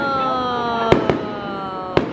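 Three sharp firework cracks go off in Barcelona at night, two close together and one a moment later, over a steady humming background with faint tonal whine.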